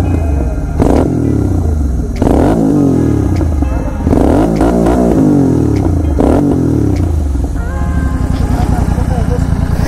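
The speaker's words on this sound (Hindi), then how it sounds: "बाकी मैं आपको इस बाइक की आवाज़ एक बार सुनाता हूँ दोबारा से," A KTM Duke 250 motorcycle with a modified aftermarket exhaust revs repeatedly nearby, loud rising and falling engine sweeps with a rough exhaust note, one blip after another, while someone talks over it.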